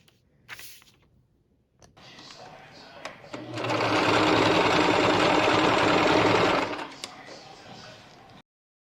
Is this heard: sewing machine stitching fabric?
yes